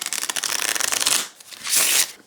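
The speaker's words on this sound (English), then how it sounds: "Let's shuffle these just because we're here playing." A mini tarot deck is riffled in a rapid burst of crisp card flicks, then after a short gap a second shorter riffle and bridge, loud and close with no talk.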